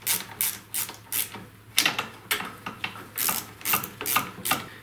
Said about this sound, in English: Now I'll tighten up the two nuts here evenly with a 10mm socket and a ratchet